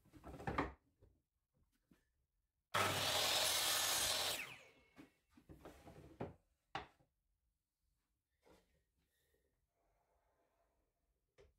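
Cabinet doors on a woodworking mitre station, held with magnets, are opened and closed in a quiet workshop: scattered soft knocks and clicks around a loud, sustained rushing burst of a couple of seconds.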